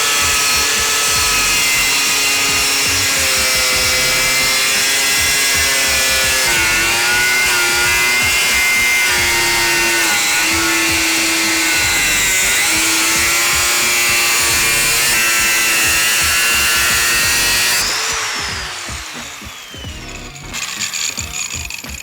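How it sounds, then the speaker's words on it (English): An angle grinder cuts metal on a classic Ford truck, a loud continuous high-pitched whine that dips slightly in pitch as it bites, running nearly twenty seconds before spinning down. "the angle grinder and very carefully chop this line and this line"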